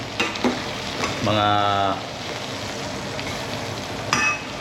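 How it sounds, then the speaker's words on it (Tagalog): Fish fillet fries in a pan with eggs and seasoning while being stirred, a steady close sizzle broken by scraping clicks of the utensil and a short tonal squeak partway through. "Haluin na natin ito mga bikers para ma-absorb yung"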